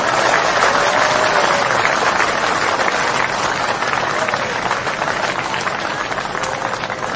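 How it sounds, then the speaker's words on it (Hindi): A crowd at a political speech in Rajasthan claps steadily, a loud continuous wall of applause that eases slightly toward the end, with faint whistles or shouts mixed in. "50 लाख जल्दी कम से कम ताली तो बजा दो"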